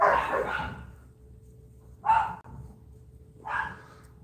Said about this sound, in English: those dogs are fucking loud